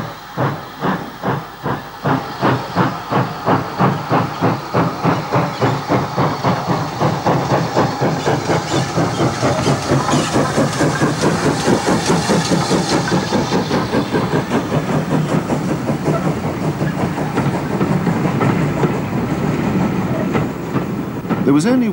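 Two GWR pannier tank steam locomotives from the later rounded-cab batch, seen in 1965, chuffing in a rapid, steady exhaust beat with hissing steam, loud and close, building as they pass.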